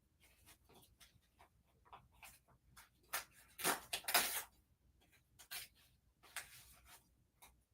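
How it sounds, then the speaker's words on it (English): Foundation paper is torn away from the middle of a pieced fabric quilt block in short, close ripping and crinkling bursts, quiet and with no talking. "I'm just tearing that paper off from the middle."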